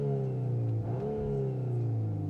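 A 2024 Volkswagen Golf R engine in its special drive mode revs up, a steady mid-pitched hum climbing in a rising sweep and settling back, heard close and alone without talk.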